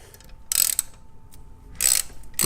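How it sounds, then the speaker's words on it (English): A ratchet clicks while backing hex screws out of a Triumph Bonneville D&D exhaust: two short bursts of rapid, close metallic clicking separated by a quiet pause, with a third starting at the end. "these hex screws are coming out pretty easily"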